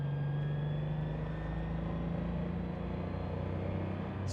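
A Toyota 5M-GE engine running lean under load in second gear, heard from inside the car as a steady, close droning hum with a constant low tone and no voices.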